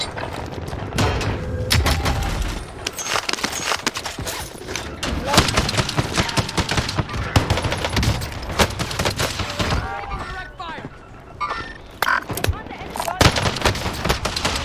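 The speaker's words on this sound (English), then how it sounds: "There's 3 people shooting at me at once." Rapid MP7 gunfire from several players at once in a video game shooter, dense overlapping bursts that are loud and nearly continuous, with a voice talking over parts of it.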